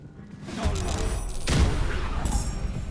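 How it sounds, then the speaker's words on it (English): A sudden crackling magical blast from an Eldritch Blast spell striking a target in Baldur's Gate 3, erupting loudly about halfway through over a rumbling battle backdrop, with a voice talking. "Can I just Eldritch Blast it when it's least expecting?"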